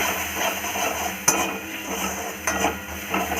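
Kitchen king masala, chilli powder, turmeric and salt are stirred in mustard oil in a pan for fish-head moong dal. A soft, steady hiss runs under a few sharp clinks of the spoon against the pan.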